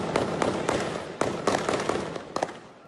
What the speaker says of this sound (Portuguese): A troca de tiros foi registrada por pessoas que tentaram se abrigar para se proteger.